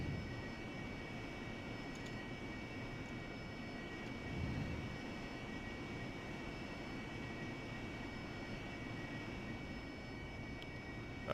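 Mirage jet taxiing in the flight simulator DCS, a faint, steady engine hum and whine running evenly throughout, with no speech.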